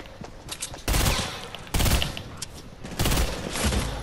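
Fortnite gunfire comes in three loud, dense bursts of rapid shots, each lasting under a second, separated by quieter game background.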